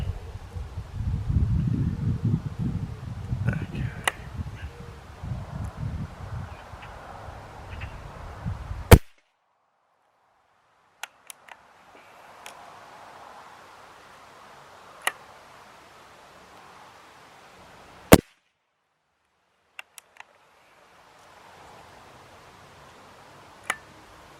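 A BSA Ultra and a Kral Puncher NP02 air rifle are fired in turn with JSB Exact pellets: several sharp, isolated cracks spaced seconds apart, following a stretch of rustling handling noise, with quiet gaps between shots.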